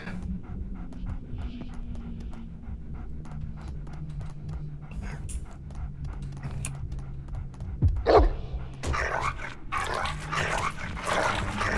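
Dog in a video game panting steadily and rhythmically throughout, with a few sharp barks near the end over a continuous low game ambience.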